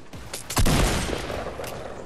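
Gunfire from shooting in the video game Fortnite: a sudden loud burst of shots that trails into sustained noisy rumble.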